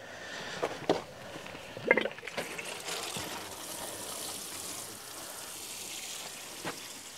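Water gushes from a hose or can onto plants in an allotment garden as a soft, continuous spray. A few faint knocks and splashes come early, and then a steady outdoor flow follows.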